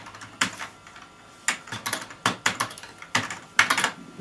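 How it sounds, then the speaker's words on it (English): Arrow keys pressed on an old vintage computer keyboard, giving irregular sharp clacks in small clusters, close and clear with no speech. "The keyboard is not doing anything. I'm pressing the arrows."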